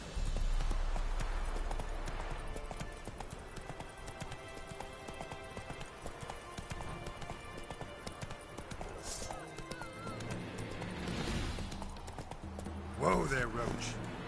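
Roach, the horse in the Witcher 3 video game, gallops with fast rhythmic hoof clops under steady game ambience and a short whinny near the end, while a voice talks over it.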